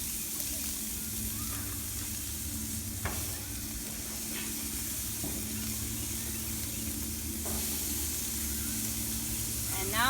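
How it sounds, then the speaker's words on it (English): Burger patties sizzling on a grill, a steady hiss of frying that runs throughout with a few faint scrapes and knocks. "And then you just lay all the burgers on"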